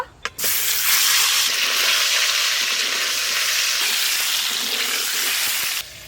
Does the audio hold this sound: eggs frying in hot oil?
yes